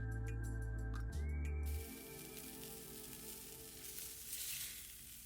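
Birria grilled cheese frying in a hot pan, a continuous close fizzing sizzle with faint crackles, preceded by a brief low rumble at the start, with no talk.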